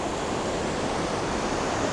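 Water of the Potomac River rushing past the dam at Great Falls, a steady broadband roar with no breaks, fairly loud and continuous throughout.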